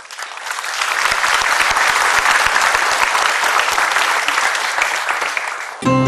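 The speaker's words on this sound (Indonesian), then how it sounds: "Tepuk tangan untuk Anda semua" A TV studio audience on a motivational talk show breaks into loud, dense applause that swells quickly, holds steady and cuts off abruptly into music at the end.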